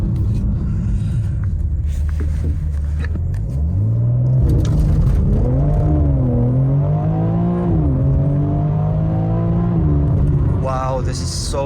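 A BMW M4 Competition in manual mode with traction control off revs up through rising engine notes as it accelerates hard, loud and close inside the cabin, with a person speaking briefly over it.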